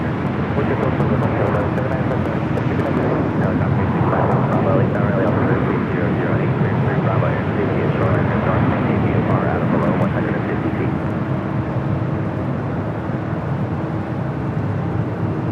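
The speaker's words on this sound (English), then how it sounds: "Allegiant Air 301 taking off to Bellingham on the A319 in the Las Vegas Raiders livery." An Allegiant Air A319 in Las Vegas Raiders livery takes off at LAX, a loud, steady broadband engine roar filling the whole stretch, with a faint voice underneath.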